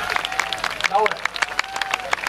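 Audience applause at the Sendai Michinoku YOSAKOI dance festival in Kotodai Park, a scattered outdoor crowd clapping steadily with voices mixed in.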